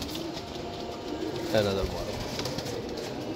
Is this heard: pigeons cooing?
yes